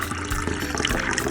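Tea poured from a pot into a cup late at night, a steady watery trickle and splash lasting just over a second, close and moderately loud with no talking.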